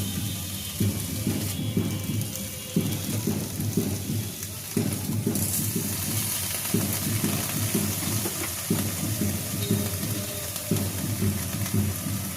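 Koi fish wrapped in bottle gourd leaves sizzle in hot oil in a frying pan during village cooking, giving a steady, fairly loud crackling hiss that runs unbroken throughout, with no one speaking.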